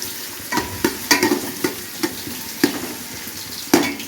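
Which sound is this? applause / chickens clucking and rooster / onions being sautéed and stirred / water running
onions being sautéed and stirred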